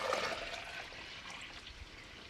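Water pours into a first-generation Cummins truck engine, a soft gurgling, splashing stream that tapers off slightly over a couple of seconds, faint and close, with no voices.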